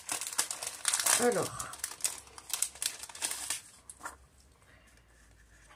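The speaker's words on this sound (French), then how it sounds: "Pardon pour le bruit des sachets." Small paper packets crinkle and rustle close up as they are handled and opened, in a busy burst of crackling for a few seconds that then fades to near quiet, with a brief spoken word over it.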